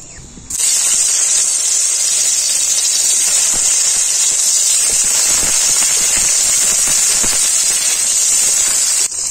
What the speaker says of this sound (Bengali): এরপর আমি পনিরগুলো ভেজে নেব।